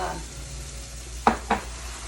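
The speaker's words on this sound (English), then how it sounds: "Okay, it's sizzling. It's making little holes." A rounded spoonful of batter sizzles in hot oil, a steady low frying hiss close by, with two brief clinks of a spoon or pan partway through.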